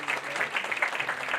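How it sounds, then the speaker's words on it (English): Short burst of audience applause after a film screening and director talk, soft and distant, a steady patter of many hands. "I think this whole team, needs a big applause"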